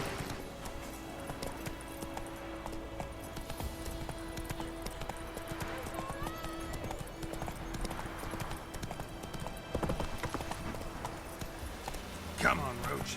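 Hooves clip-clop steadily as a horse gallops in The Witcher 3, a continuous rapid rhythm under game ambience, with a brief whinny-like flourish near the end.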